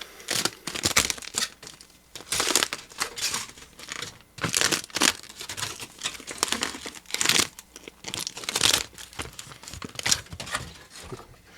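Aluminium foil wrapping is crumpled and crinkled while a parcel is unboxed, producing close, loud, continuous rustling in irregular bursts with brief pauses and no talk.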